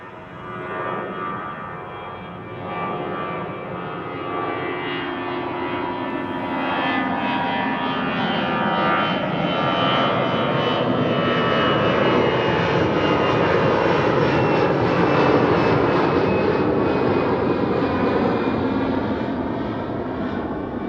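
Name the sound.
Lufthansa Airbus A319 departing Schiphol runway 24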